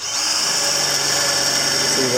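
A power drill fitted with a metal hole saw spins up and runs steadily, a loud sustained whine with a constant high tone through the whole stretch.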